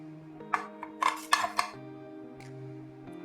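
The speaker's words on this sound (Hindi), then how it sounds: "तो इसमें अब मैं सारे जो मसाले हैं उनको मिक्स कर लूँगी।" Spices being stirred together in a small bowl for chicken khara masala, giving a string of light metallic clinks and taps, some close together, over a quiet kitchen background.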